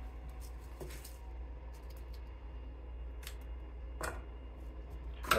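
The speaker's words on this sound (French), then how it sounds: "Donc on va prendre le ciseau, hop," Scissors snipping edamame pods off the plant during a harvest, a few sparse, quiet clicks and snips over a low steady background hum.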